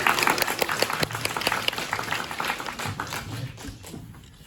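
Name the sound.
audience applause welcoming guests at BIFF screening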